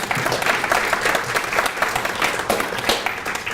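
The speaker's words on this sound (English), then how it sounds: "So we can get a round of applause for those guys." A reception crowd gives the catering staff a round of applause at a graduation event, loud and close, with dense clapping and a few sharper individual claps standing out.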